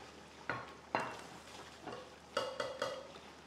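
Shredded chicken is stir-fried for haleem in a pot, sounding as a faint sizzle with several sharp scraping and clinking stirring strokes in irregular bursts, close by and without talk.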